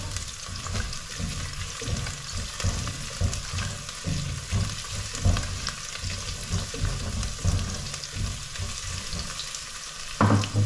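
Garlic, onion, ginger and chili fry together in a pan with a loud, continuous crackling sizzle, stirred throughout with rhythmic scraping close up and no talk.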